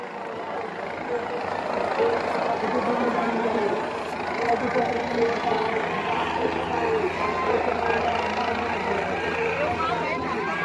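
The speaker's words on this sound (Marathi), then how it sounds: "आता तुम्ही हेलिकॉप्टरमध्ये पुष्पवृष्टी बघताय" A helicopter showers flowers over the Bhanoba temple festival, its steady engine and rotor rumble droning continuously beneath a dense, noisy crowd with people talking throughout.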